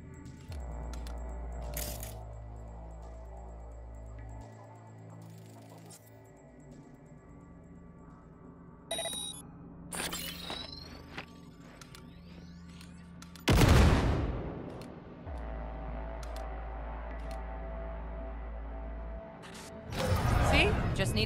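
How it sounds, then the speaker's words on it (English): A grenade detonates in the game Cyberpunk 2077 with a loud, sharp blast that rings out and decays, set among scattered mechanical clicks and game sounds. "Now, detonate the grenade."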